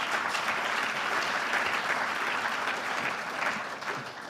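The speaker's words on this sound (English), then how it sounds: "Please give Paul a little round of applause." Audience applause at the Mindful Money awards ceremony, a steady dense clapping from a crowd that holds even for about four seconds and thins slightly at the end, with no talk over it.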